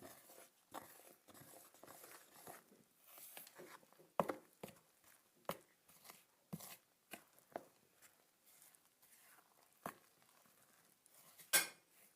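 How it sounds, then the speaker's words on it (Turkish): Katmer dough stirred as instant-yeast milk is added to flour, with repeated light clinks and scrapes of a utensil against a bowl, irregular taps and clatters close up and no talking. "Mayalı sütünü instant mayalı sütü veriyoruz ve karıştırıyoruz"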